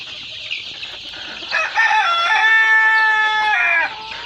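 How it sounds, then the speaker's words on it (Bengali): Fayoumi chickens cluck softly, then a rooster crows loudly and close by in one long drawn-out call. "এটা হচ্ছে অরিজিনাল মিশরীয় ফার্মি মুরগির বাচ্চা"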